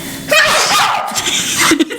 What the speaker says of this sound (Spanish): Alguien estornudó.